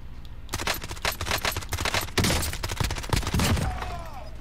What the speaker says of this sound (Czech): Kde se střílí?